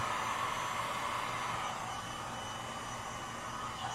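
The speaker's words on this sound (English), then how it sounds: "I'm just holding the heat gun just off to the side." A heat gun blows hot air in a steady, close whooshing hiss, unbroken and even for the whole stretch while alcohol ink is being dried, with no voices over it.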